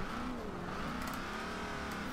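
A car engine in the Forza Horizon 2 racing game revs hard against its rev limiter, a sustained droning buzz with wavering pitch, fairly quiet and continuous throughout.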